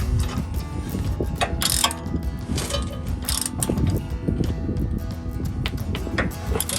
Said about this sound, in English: We'll go ahead and tighten these up.